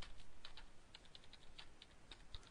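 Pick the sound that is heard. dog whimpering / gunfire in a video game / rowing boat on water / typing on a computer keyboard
typing on a computer keyboard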